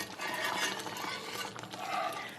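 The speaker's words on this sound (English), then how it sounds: "So we're just going to let this simmer and keep it stirring for 4 or 5 minutes until it thickens" Onion gravy simmering in a pan while being stirred, a steady close wash of scraping and soft bubbling with faint clinks of a utensil against the pan, continuous and fairly even throughout.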